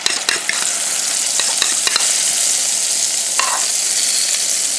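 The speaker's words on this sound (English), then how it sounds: "Just stir it up." A utensil scrapes and clicks against a bowl while stirring two eggs with milk, a continuous bright swishing with occasional sharp taps, close and loud.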